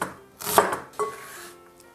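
A kitchen knife slices a leek into rings on a cutting board, with two distinct close chops followed by a brief ringing tail, no talking.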